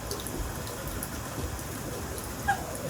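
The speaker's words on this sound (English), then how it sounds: "as you can tell, it's raining" Rain falls steadily on an umbrella outdoors in Cold Spring, New York, a dense continuous patter close overhead with a few brighter drips and one sharper tap near the end.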